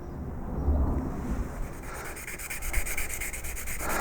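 A woodcarving gouge is rubbed and scrubbed to remove surface temper colours after hardening and tempering, giving a close, continuous abrasive scratching with no talk.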